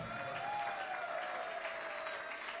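A church congregation applauding, a steady wash of clapping from a crowd heard at a moderate distance, with a faint sustained tone lingering underneath.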